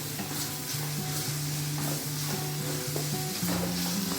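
Pumpkin curry with garam masala being stirred in a pan, a steady soft scraping and gentle sizzle over a constant low tonal hum, with no voices.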